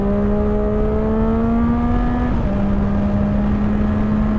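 A 2016 Yamaha MT-09 Tracer motorcycle engine holds a loud, steady drone whose pitch climbs slowly, then dips suddenly and settles at a slightly lower note, with no talking.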